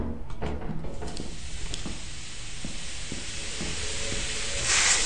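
Steam hissing from a vent in Lethal Company, a continuous broad hiss with scattered clanks and thumps, swelling louder at the very end.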